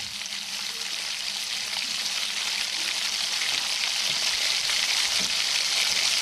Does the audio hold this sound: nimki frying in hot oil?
yes